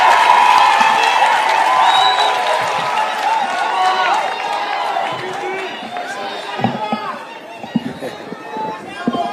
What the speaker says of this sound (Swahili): Makofi ya naibu wa rais. Makofi tena.